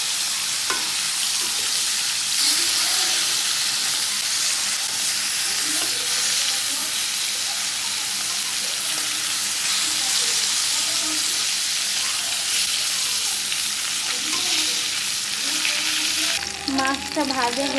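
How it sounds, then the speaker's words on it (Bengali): Fish frying in a pan in a home kitchen, a steady loud sizzle and crackle with occasional stirring, running continuously and close, with a brief burst of other sound near the end. "মাছটা ভাজা হয়ে গেছে"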